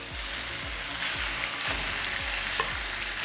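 Minced meat frying in hot oil in a pan for meat pie filling, a steady close sizzle with rhythmic scraping stirs recurring about every half second.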